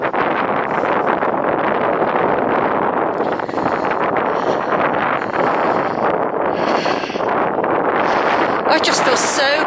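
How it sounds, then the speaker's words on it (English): Loud, continuous wind roaring across the microphone throughout a walk by the River Parrett at West Huntspill and Stretcholt in March, with faint sounds of movement beneath it. "It's just windy, everyone."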